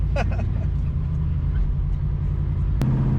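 A 1965 Ford Mustang driving and making a left-hand turn, its engine a steady low rumble heard from inside the car, with a sharp click near the end.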